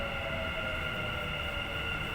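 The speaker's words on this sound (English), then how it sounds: "Behind me there will be the metro. Train is come. The train has come." A metro train arriving at a station gives off a steady, sustained tonal whine over a rumbling background, loud and continuous across the moment with no talk.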